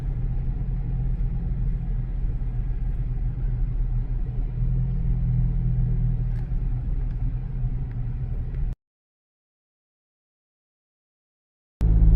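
A car passes on a mountain road, its engine a continuous low rumble that swells and fades for several seconds before abrupt silence.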